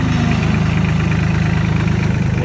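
Tractor engine idling while stuck on a farm, a steady, close, low-pitched rumble with a regular pulsing throb, loud and with no talking.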